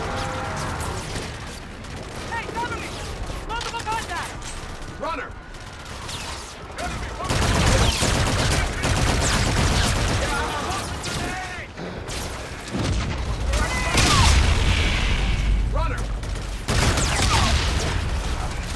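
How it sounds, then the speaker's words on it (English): Rapid gunfire and booming explosions from a futuristic shooter battle in Call of Duty: Infinite Warfare on PC, near and loud in continuous bursts throughout, with someone talking over the action. "Okay, I'm getting shot from up there."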